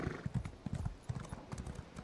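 A horse gallops in the video game Elder Scrolls Online, its hooves beating a quick, even clip-clop rhythm at moderate loudness, with no talk over it.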